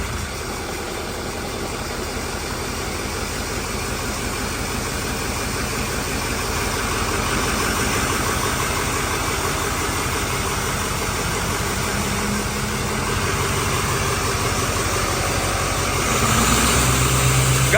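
A worn-out old diesel engine built cheaply for a poor diesel challenge idles after restarting, a steady low rumbling drone with vibration that rises slightly in the middle and grows louder near the end.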